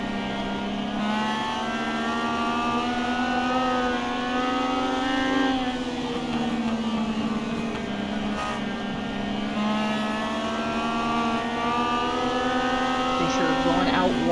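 Race car engine heard onboard during a race with driver Fisher, a loud steady drone whose pitch dips and climbs as the throttle is worked through a corner and onto the exit, with commentary talking over it throughout.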